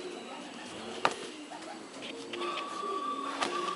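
Racing pigeons in a loft give soft, low coos over a faint continuous background hum, with one sharp tap partway through.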